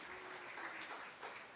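Brief, faint applause from a conference audience greeting a panelist on stage, a distant, even spatter of many hands with a thin steady tone beneath it.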